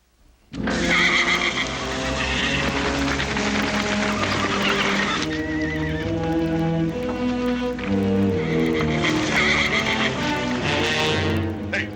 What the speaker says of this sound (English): Hey, Paul, the horses.